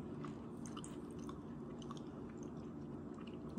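Chewing on a hard Skor toffee candy bar, a steady stream of close, crunchy biting and grinding with no talk.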